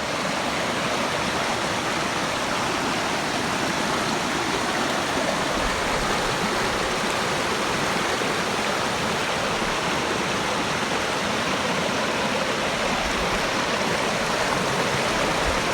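Pourcheyrolles waterfall in France roars steadily and close, a dense, unbroken rush of falling water that fills the whole scene at constant loudness without talk.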